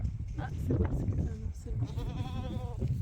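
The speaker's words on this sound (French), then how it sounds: "Et là nous avons d'autres petites chèvres ici." Small goats on a farm bleat close by in a wavering, drawn-out cry, with people talking and rustling movement around them.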